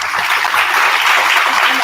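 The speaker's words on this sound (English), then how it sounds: "A big round of applause to them." Applause at a college BBA inauguration ceremony, a brief burst of dense, even clapping from an audience filling the whole moment.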